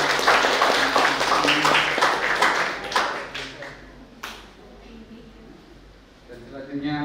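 Applause from guests at a wedding blessing ceremony, a dense patter of clapping that is loud at first and then tapers off, with a voice talking over it and a musical tone rising near the end.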